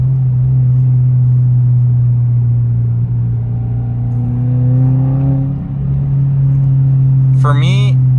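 Cabin view of a 2022 Subaru WRX with a muffler-deleted exhaust: a deep steady drone that builds into a louder rev, with a voice speaking over it.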